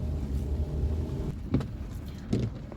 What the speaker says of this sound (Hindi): आगे से गाड़ी आ रही थी।